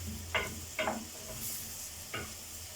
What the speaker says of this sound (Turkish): Şurada hemen şöyle pırasamı çevireceğim.